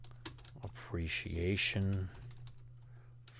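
Computer keyboard typing in short clicky bursts, near and steady, with a person speaking a word over the keystrokes partway through.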